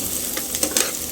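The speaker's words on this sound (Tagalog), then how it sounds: "So habang ginigisa yung sibuyas at bawang" Onion and garlic sizzle steadily in a hot pan, close and fairly loud, with a couple of quick spatula scrapes near the end and no talking.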